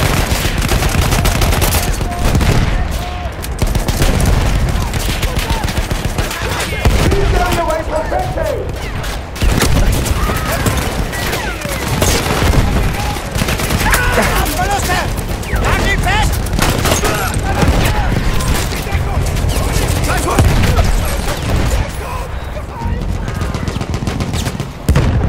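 Battlefield 1 combat on a bridge brings continuous loud gunfire: rapid machine-gun bursts and fusillades with booming shots, dense and unbroken, while voices shout over the battle.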